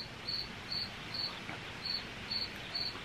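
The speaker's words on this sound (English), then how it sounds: "Do you hear those crickets again? They're loud tonight." Crickets chirping outdoors at night, a faint lone insect trilling in short, evenly spaced bursts about every half second against quiet background hiss.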